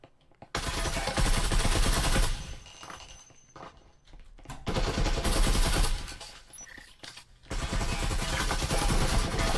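Bursts of automatic gunfire shooting through walls in the Breachers VR tactical shooter, loud rapid volleys broken by short gaps, with a brief metallic clank between strings of shots.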